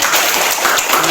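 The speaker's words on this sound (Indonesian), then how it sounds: "silakan tepuk tangan" A class of students claps in a short, dense burst of overlapping hand claps, loud and close, filling the moment evenly with no voices over it.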